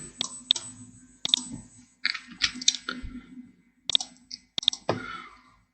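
Mouse clicks selecting slicer regions in an Excel pivot table dashboard, a handful of sharp, close clicks spread irregularly with brief rustling between them.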